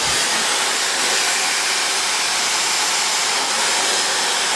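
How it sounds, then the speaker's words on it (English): A hair dryer blows steadily, a loud, constant rushing whoosh of air up close with no change in pitch. "you want your blow dryer to go in front of it here"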